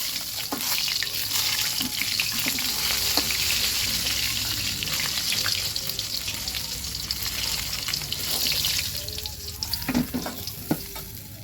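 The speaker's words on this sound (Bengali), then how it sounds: "আমি 3টে শুকনো লঙ্কা দিয়েছি আর কিছু গোটা জিরে দিয়ে আলুগুলো ছেড়ে দিয়েছি। এখন আলুগুলো খুব সুন্দর করে ভেজে নেব।" Potatoes fry in hot oil with dried red chillies and whole cumin seeds, giving a steady close sizzle with occasional stirring scrapes and sharp spits throughout.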